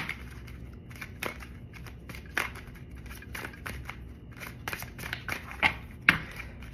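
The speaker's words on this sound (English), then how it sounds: "So let me say, I'm going to pull like two more cards." Tarot cards being drawn from a deck give soft papery snaps, slides and flicks in irregular bursts, faint and close, with no speech.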